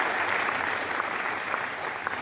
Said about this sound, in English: I'd like you all to give him once again a warm applause